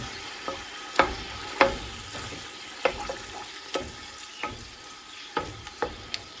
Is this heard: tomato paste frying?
yes